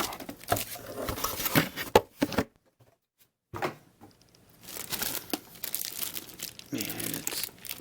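Crinkling of a shiny plastic shipping bag taped at the top, handled in bursts of rustling with a brief quiet pause, close and fairly soft.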